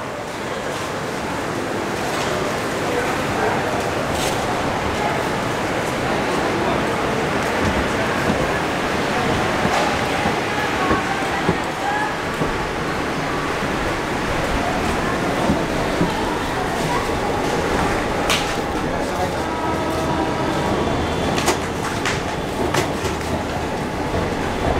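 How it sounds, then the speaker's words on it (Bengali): The Haldibari Superfast Express leaving platform 2 at Bardhaman Junction, heard from inside the moving train as a constant loud rumble and rolling clatter of wheels on rails, with occasional sharper knocks throughout. "ছেড়ে বেরোচ্ছে 2 নম্বর প্ল্যাটফর্ম বর্ধমান জংশন থেকে।"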